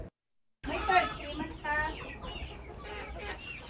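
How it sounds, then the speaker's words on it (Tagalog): Chinese chickens on a demonstration farm cluck and call close by, with several short bursts in a row after a moment of silence. "ila ginasagod karon nga mga Chinese chicken"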